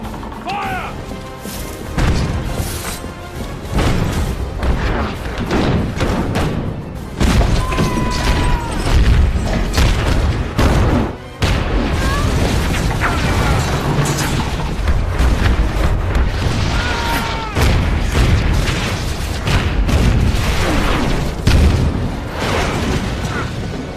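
Cannon fire during a naval battle between ships in a Three Musketeers film: repeated booming blasts and crashes sit within a dense, continuous wall of battle noise, with mechanical clatter and shouting voices throughout.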